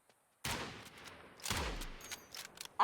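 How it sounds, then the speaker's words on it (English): A sniper rifle fires in the video game Nightingale: a sharp, loud shot with a deep booming tail, followed by a second heavy blast about a second later, then fading rumble and small clicks. "can I snipe a guy from over here?"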